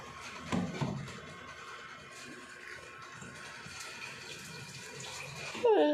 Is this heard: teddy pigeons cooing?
no